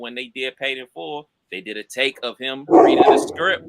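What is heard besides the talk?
dog barking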